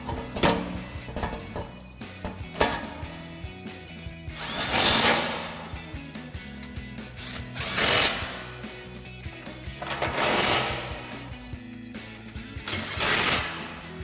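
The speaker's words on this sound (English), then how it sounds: "Now we'll grab our 15 mil socket on our impact," An impact wrench fitted with a 15 mm socket tightens bolts on a front winch bumper of a 2021–2023 Ford Bronco, giving several loud bursts of rattling hammering separated by quieter clinks and handling sounds.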